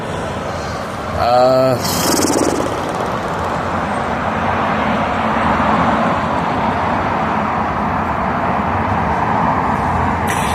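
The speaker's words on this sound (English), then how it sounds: "I guess we're just gonna have to deal with the sound of the cars." Steady roadside traffic noise from passing cars, a continuous broadband wash that stays fairly loud throughout, with a brief louder burst near the start and no clear separate passes.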